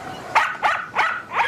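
A dog barks four times at a steady pace, fairly close and loud, with no voices over it.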